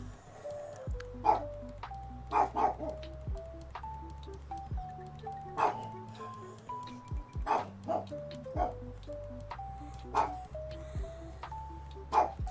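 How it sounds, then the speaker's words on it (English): A dog barks repeatedly in short yips from a little distance, over a background of steady tonal music. "Oh no, even Mifa's barking"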